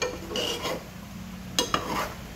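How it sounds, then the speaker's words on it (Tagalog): A spoon stirs a tomato stew (kinamatisan) in a cooking pot, with several scraping, clinking strokes against the metal and a quieter pause between the bursts. "Haluin natin."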